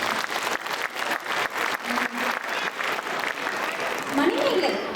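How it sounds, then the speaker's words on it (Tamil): An audience at a Tamil poetry recital claps together in a dense, rippling burst of applause that holds steady and swells slightly toward the end. "எல்லாரும் ஒரு முறை ஜோன்னு கைத்தட்டுங்க பார்ப்போம்"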